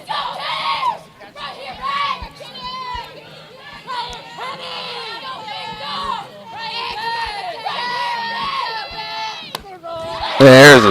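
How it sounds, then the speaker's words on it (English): Reserves in a softball dugout at a Durant vs Robinson game shout and cheer loudly, voices rising in excited bursts, with a sharp louder burst of cheering at the end. "I was just listening and hearing the Durant dugout get loud"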